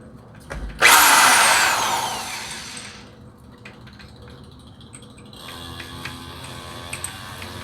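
A hand drill spins an end mill to deburr a custom engine bushing, giving a loud, sharp burst of high-pitched grinding that fades over a couple of seconds, followed by quieter mechanical rattling and tool handling.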